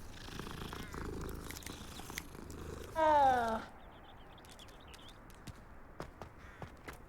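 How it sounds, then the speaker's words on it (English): A low, steady cat purr rumbles under Hogwarts Legacy game ambience, broken by a short, louder animal cry midway, with faint ticking and tapping sounds afterward. "Another cat."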